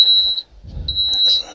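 High-pitched electronic alarm beeping from a Kenworth T660 truck cab, two long steady tones separated by a short gap, loud and close, with low rumbling noise in between.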